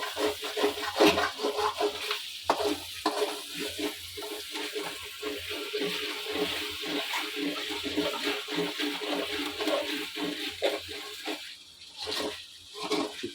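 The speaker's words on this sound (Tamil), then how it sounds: "நல்லா கிளறி விடுங்க." Pepper chicken fries over a high flame while being stirred vigorously. A hissing sizzle rises and falls in rhythmic surges with each turn of the spatula, close and steady throughout.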